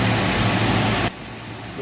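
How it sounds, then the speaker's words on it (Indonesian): Car AC compressor on an idling engine: a loud, steady engine drone that cuts sharply to a quieter hum as the magnetic clutch engages, then begins to swell again. "di situ kompresor untuk magnetic clutch-nya sudah bekerja, sudah mulai menempel"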